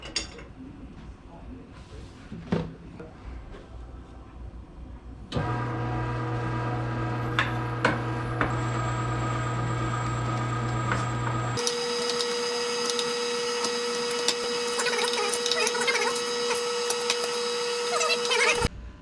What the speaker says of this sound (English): we're going to run it through this grinder here and grind it all up